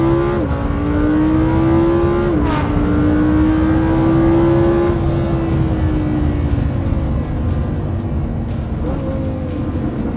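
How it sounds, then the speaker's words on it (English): A Lamborghini Huracán's naturally aspirated V10 revs up close and loud. Its pitch jumps and holds high, then eases down, and a second sharp rev rises near the end. "about this marvel of a V10 engine behind me"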